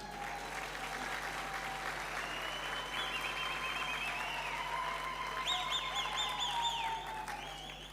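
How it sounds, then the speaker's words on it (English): Sustained applause from a large audience at a university graduation ceremony in Mbombela, steady and fairly distant, with faint whistles or cheers rising over the clapping. "You don't want to clap hands for them?"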